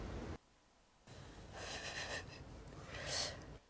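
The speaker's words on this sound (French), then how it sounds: "Ah, c'était donc lui qui ronflait." A person snoring nearby, with raspy, breathy snorts and wheezing swelling and fading across a few seconds after a brief quiet gap.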